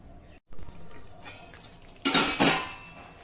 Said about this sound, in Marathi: आता यावर अर्धवट झाकण ठेवू आणि 2-3 मिनिटांसाठी हे छान शिजवून घेऊ